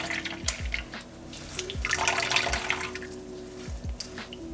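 Nut milk squeezed by hand through a straining bag, liquid dripping and trickling into a jar in a kitchen, with soft wet splashes and a few low thumps, close by and fairly quiet.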